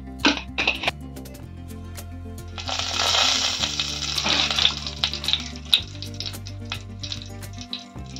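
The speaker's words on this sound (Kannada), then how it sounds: "ಒಗ್ಗರಣೆಗೆ 2 ಜೀರಿಗೆ ಹಾಕ್ತೇನೆ." Cumin seeds dropped into hot oil for tempering sizzle and crackle in a pan, with faint pops and scattered clicks of utensils, close and moderately loud, while a low steady hum runs underneath.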